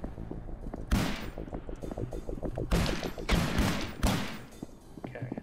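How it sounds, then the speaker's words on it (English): Video game gunfire crackles in several loud close bursts of rapid shots, separated by short pauses, over a low droning game soundscape. "I'm trying to not have to shoot all these guys."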